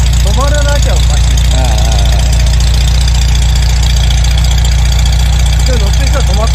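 A Volkswagen Karmann Ghia engine with carburetor and ignition trouble idles steadily and close up, a continuous low rumble running throughout while someone talks over it.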